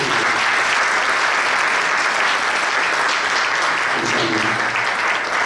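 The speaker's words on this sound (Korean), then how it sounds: "큰 격려 박수" At a Korean church general assembly celebration, a large audience gives sustained, loud applause. The dense clapping continues unbroken, and a faint voice surfaces briefly near the end.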